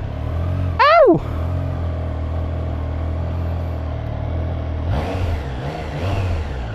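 Triumph Trident 660 motorcycle (2025) on its stock exhaust, blipping its engine in one sharp, rising-and-falling rev near the start, then idling steadily before a second, rougher throttle burst and settling again.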